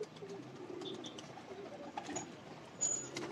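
Soft pigeon cooing repeats close by, with faint chirps and rustling in a quiet background.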